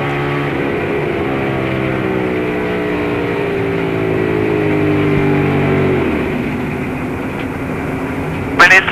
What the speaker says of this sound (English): You'll hear that engine going sour and the radio.